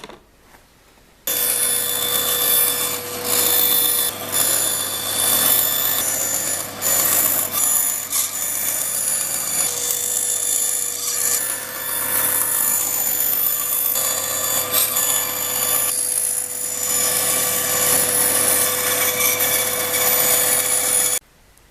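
Continuous scraping and rasping from trimming cut pieces for a stag head model, a close, steady rub with a faint constant tonal whine beneath it lasting about twenty seconds, with no talking.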